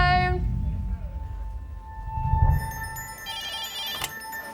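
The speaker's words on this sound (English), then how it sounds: "Phone." A telephone rings in a hospital emergency resuscitation room, a sustained electronic ring with bright repeated tones that swell near the end, following a low voice speaking at the start.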